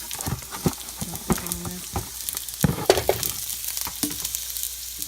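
Quorn veggie chicken pieces fry in olive oil in a skillet, crackling loudly up close, while a utensil scrapes and knocks against the pan in uneven bursts; no talk.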